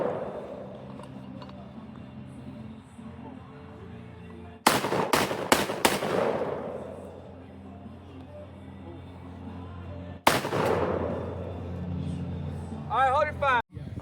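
Gunshots fired at an outdoor shooting range: a quick burst of three or four loud cracks, a pause, then one more sharp shot echoing away, over a low background hum.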